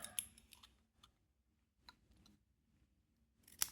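Scissors snipping through a paper gift tag to split it in half, a few quiet, separate cuts and clicks with near-silent pauses between them, close and soft.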